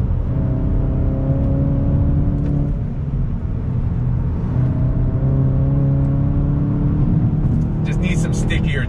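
A 2021 VW Golf GTI with a 6-speed manual drones steadily through a corner, its engine note shifting pitch as it holds a line, with occasional faint tire chirp and people talking inside the car.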